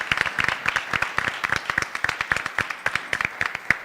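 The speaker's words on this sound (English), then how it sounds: "I'm going to start with a round of applause" At a school district board of education meeting, a modest group gives a brisk round of applause, with sharp, closely spaced individual claps heard clearly and steadily throughout.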